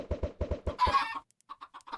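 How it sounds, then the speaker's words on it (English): Chickens in the Minecraft Monifactory modpack cluck in a quick run of about six low, evenly spaced clucks, then a brief squawk and a few faint, scattered peeps, close and clear with no talk. "Did that one just spawn 4 chickens?"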